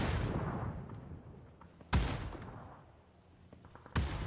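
In the video game PUBG, heavy blasts from a grenade explosion and gunfire come in three sharp bursts about two seconds apart, each trailing off into a rumbling echo, fairly loud with no talk over them.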